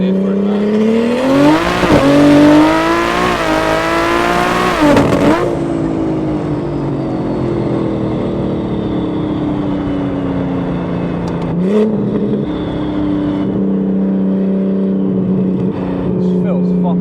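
A 1500-horsepower BMW M140i running 40 PSI of boost roars hard under acceleration with wheelspin, its engine note climbing sharply then dropping at a gear change and pulling on steadily inside the cabin while an occupant talks over it.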